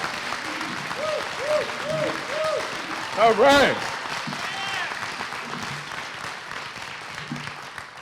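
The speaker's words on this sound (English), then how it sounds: "Give her a round of applause for what she does." Convention crowd applauding at the 2023 Oregon AFSCME union convention, a steady moderate clapping wash throughout, with someone speaking briefly over it and a short louder burst midway.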